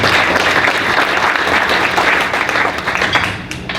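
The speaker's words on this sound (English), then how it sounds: "Give yourselves a round of applause." Attendees at a home builders association general meeting give a loud round of applause, thick continuous clapping close by that tapers off toward the end.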